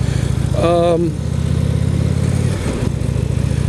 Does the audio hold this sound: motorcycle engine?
yes